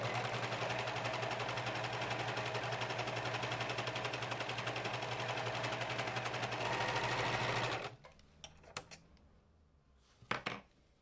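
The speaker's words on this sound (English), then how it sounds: "I'm gonna run this through the serger so that there aren't any raw edges to unravel." A serger overlocks raw fabric edges in a steady, fast mechanical whir for about eight seconds, then stops, followed by a few faint clicks and handling sounds.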